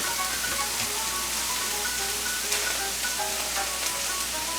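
Blanched food is tossed in a hot pan and frying, a constant bright sizzle like light rain, with faint clinks as it moves, close and even throughout.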